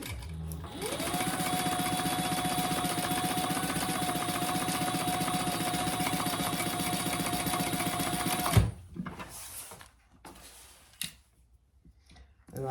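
A sewing machine stitches bag pieces together, a steady close mechanical whir and rapid needle chatter for about eight seconds, then stops, followed by faint handling clicks and rustles.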